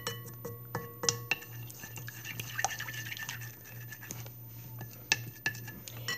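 Slime being mixed in a container, with irregular close clinks and taps of a utensil against the sides and soft wet stirring sounds at an uneven pace.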